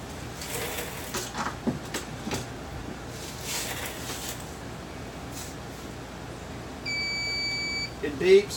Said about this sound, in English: It beeps once it's completely finished.